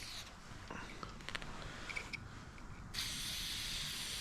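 A loud steady hiss of aerosol cleaner sprayed on a Beretta A400 Xcel shotgun starts partway through and continues, after some soft scuffs and faint clicks nearby.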